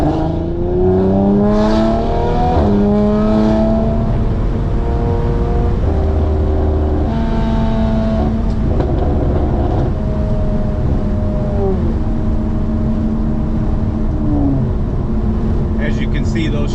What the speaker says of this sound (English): Let's do a little, maybe over half throttle, but not wide open throttle.